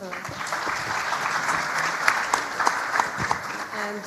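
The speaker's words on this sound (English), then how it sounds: "If you can please give them a hand of applause." An audience at a policy panel session on job creation and skills applauds the panelists, a steady, moderately loud wash of clapping from a seated crowd over four seconds with some sharper individual claps.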